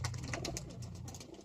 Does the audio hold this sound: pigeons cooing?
yes